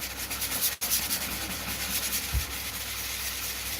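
Steady, continuous rubbing of sandpaper against a surface, close and even in level throughout with a brief break partway, with no talking.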